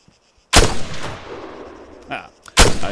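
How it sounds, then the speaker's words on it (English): Rifle shots in the Arma 3 video game, two loud, sharp reports about two seconds apart with a reverberant tail, plus a softer muffled crack between them. "When you're ready, put some rounds down range."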